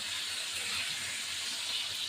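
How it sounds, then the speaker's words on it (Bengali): Pieces of hilsa fish fry in oil after being flipped, giving a soft, steady sizzling hiss that stays faint and even throughout. "এবার আমার মাছ ভাজাগুলো হয়ে গেছে, এক পিঠ হয়ে গেছে, উল্টালাম।"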